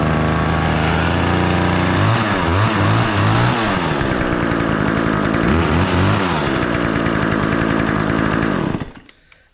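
Homelite Ranger 33cc chainsaw engine running just after a pull start, a loud, close two-stroke buzz that revs up and down several times before cutting off abruptly near the end.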